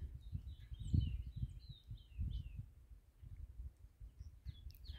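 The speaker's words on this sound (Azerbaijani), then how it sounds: "Hər selavda, hər kol dibində bir quş ötür." Several small birds chirp and trill faintly among outdoor bushes, with scattered calls over a low, thumping background rumble.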